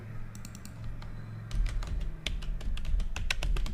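Keys on a computer keyboard clatter in quick irregular taps, sparse at first and then denser, close and fairly clear over a low background hum.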